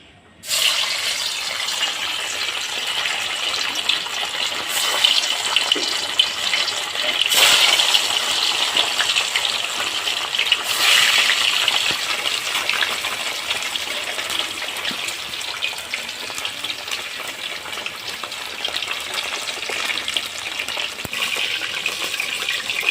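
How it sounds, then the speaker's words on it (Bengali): Pieces of katla fish slide into hot oil for a yogurt fish curry, setting off a sudden loud hissing sizzle that carries on densely for over twenty seconds with slight surges. No one talks. "তেল গরম হয়ে গেছে এখন আমি মাছটা ছেড়ে দেবো"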